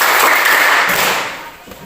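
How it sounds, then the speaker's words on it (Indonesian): A class of schoolchildren claps together on a count, a loud, dense burst of clapping up close that holds steady and then trails off toward the end. "marilah kita tepuk tangan untuk pelajaran kita hari ini"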